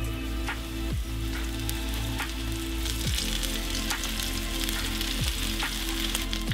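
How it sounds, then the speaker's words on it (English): Flour-coated venison pieces frying in a wok for Mongolian venison make a dense, close, steady sizzle with crackling pops and occasional knocks, with no voices. "Take your pieces of coated meat and gently drop them into the wok."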